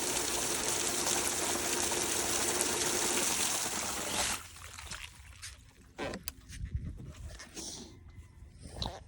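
Water rushes loudly and steadily while a pool DE filter is backwashed, then cuts off after about four seconds, leaving quieter scattered splashes and handling noises.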